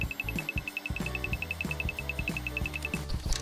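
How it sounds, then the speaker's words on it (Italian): A small toy robot vacuum cleaner runs with a steady electric hum. Rhythmic mechanical ticking pulses and a repeating high-pitched tone sound close, with no talking. "Il robot inizia a pulire."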